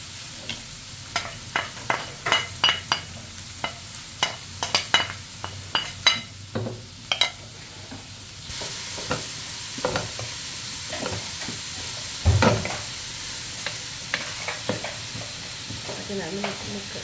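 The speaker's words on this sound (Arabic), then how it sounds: "غادي عندي طنجره غادي نشحر فيها ندير زيت العود" Onion stirred in hot oil in a pot, with a faint continuous sizzle under a series of sharp scraping and clinking stirring strokes, quiet and close.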